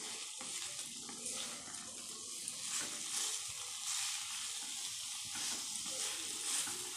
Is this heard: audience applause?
no